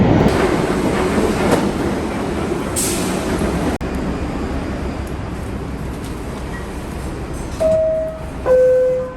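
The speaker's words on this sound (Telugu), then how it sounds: "ట్రైన్ వచ్చేస్తుంది" A New York subway train pulls into a station with a loud, close, steady rumble of wheels on rails, then high brake squeals as it slows near the end.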